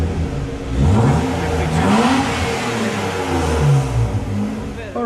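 A BMW E36 325i with an exhaust cutout revs up and settles several times, a close, moderately loud engine note rising and falling with some burbling, with people talking briefly nearby.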